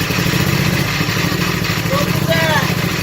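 An old mini race mower engine runs just after a cold start, a loud, close, uneven putter with a rapid pulsing rhythm, a voice speaking briefly over it.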